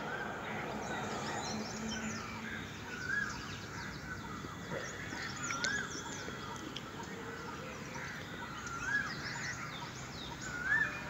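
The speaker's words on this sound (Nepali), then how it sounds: "चराचुरुङ्गीहरू कराइरहेका छन् सुन्दर" Faint, scattered bird chirps ring out at intervals across Phewa Lake with forest on the far shore, over a soft, continuous outdoor hum.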